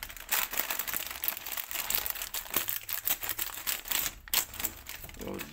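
An Omfoo snack packet is torn open by hand, giving close, crisp crinkling and ripping of plastic wrapper in quick irregular bursts, fairly soft, with no one talking.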